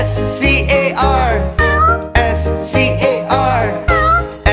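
Repeated cat meows sound over a children's nursery song, a steady series of loud, close, drawn-out mews set against bouncy music.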